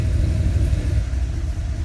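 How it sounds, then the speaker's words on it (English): A race car engine rumbles steadily in the background during race-day work on it, a deep, loud low drone with slight fluctuations and no speech over it. "Sorry if you can hear my husband's race car in the background."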